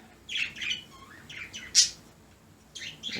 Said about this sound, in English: the birds are excited this morning, aren't they?